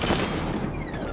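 The Batmobile's cannon fires in Batman Arkham Knight, a loud, close, booming blast that roars briefly and carries straight through with no talk over it.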